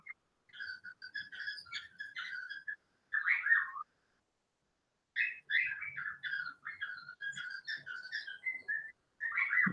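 A man whistles an imitation of a bird call, repeated chirping trills in several bursts separated by short pauses, clear and close against a quiet background.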